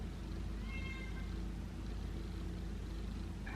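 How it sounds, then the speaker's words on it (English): A house cat meows a couple of times, faint and somewhat distant, over a steady low room rumble with no one talking. "Just sitting here waiting for my cat to stop meowing so I can start recording."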